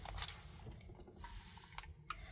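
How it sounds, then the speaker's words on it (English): A spray bottle of alizarin crimson Brusho watercolour gives a few faint, soft hissing bursts, close but quiet, with no talk. "spray bottle."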